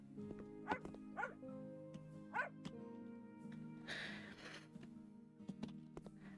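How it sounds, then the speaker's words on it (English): A dog in the House Flipper video game gives a few short yips and barks, spaced out and fairly faint over a low, steady hum, followed by a brief rustling burst. "this is a very strange dog"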